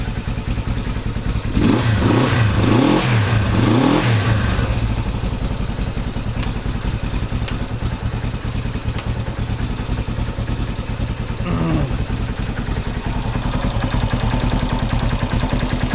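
A Honda CB450 motorcycle engine runs steadily, with a loud burst of revving early on and a smaller blip later, keeping a continuous close mechanical clatter throughout.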